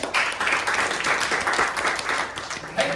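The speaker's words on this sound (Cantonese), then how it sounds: "好，大家俾掌聲，恒希。" An audience claps steadily for a student stepping up at a youth leadership magic show, a dense, even burst of applause that holds for several seconds with a few louder claps near the end.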